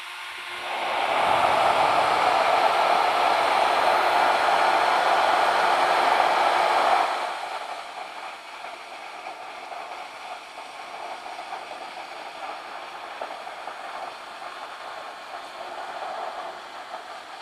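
An Origin handheld router with a cutter of 3/4-inch cutting length carves wood joinery, giving a loud, steady whine for about six seconds before dropping to a quieter, sustained hum.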